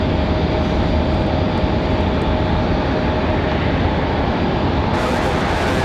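An Air Canada airliner departing Raleigh-Durham International Airport, a loud, steady broadband roar of jet engines at takeoff power sustained throughout, heard from nearby on a chilly cloudy day.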